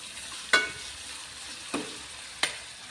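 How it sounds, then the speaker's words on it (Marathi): Onions sautéing with salt in a pan, with a soft continuous sizzle broken by three separate spatula scrapes, close up and without talk. "तर इथे आपल्याला एक 5 मिनिट आता हलकासा कलर बदलेपर्यंत कांदा परतून घ्यायचा आहे।"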